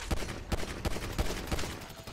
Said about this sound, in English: Shooting a pistol.